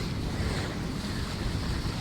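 Ocean surf around the Canary Islands, heard from a sailing yacht at sea, roars steadily with wind noise rumbling across the microphone. The sound is continuous and broadband, with no speech.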